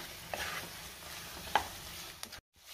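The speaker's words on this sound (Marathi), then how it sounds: "गॅसची फ्लेम हाय टू मीडियमवर ठेवून मी साधारण कोळंबी 2 मिनिटं चांगली परतून घेतलेली आहे" Prawns sautéing in a masala in a pan over a high-to-medium flame, with a steady soft sizzle broken by a few sharp scraping clicks of the stirring spoon, close and with no talk.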